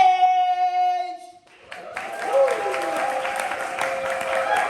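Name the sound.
audience applause at a poetry slam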